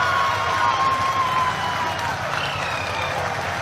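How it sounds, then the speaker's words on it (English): An audience applauds during an ISRO lunar lander module broadcast, producing a broad, steady wash of clapping and crowd noise of moderate loudness, with a voice faintly heard over it. "People are applauding."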